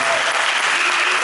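An audience at a junior mass band concert in Grande-Synthe applauds the composer, a dense, steady wash of many hands clapping, loud and continuous throughout.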